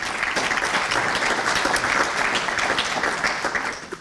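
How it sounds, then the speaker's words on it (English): A crowd applauds steadily at an event, a dense even wash of many hands clapping that holds for about four seconds before tapering slightly at the end. "So another round of applause"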